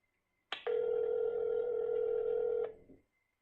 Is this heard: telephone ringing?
yes